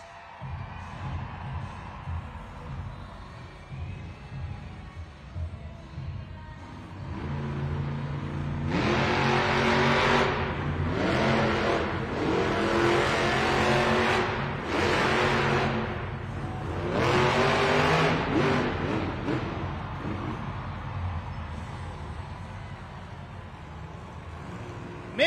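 Sparkle Smash monster truck in an arena revs its engine hard in several loud surging bursts after a quieter idle, with arena crowd noise in the background.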